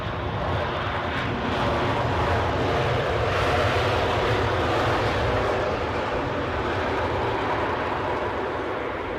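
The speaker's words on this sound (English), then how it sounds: "Etihad inbound. 7879 Dreamliner." An Etihad Boeing 787-9 Dreamliner lands at London Heathrow with a loud, steady jet roar that holds at full strength for the whole stretch, with no voices over it.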